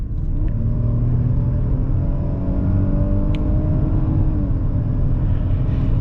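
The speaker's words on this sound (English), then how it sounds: "throw it in sport mode and go up this hill and see what this engine sounds like when it's really running" A 2020 Ford Escape SE with EcoBoost engine accelerating uphill in sport mode, giving a steady, loud low engine drone and road rumble that holds throughout without any talk.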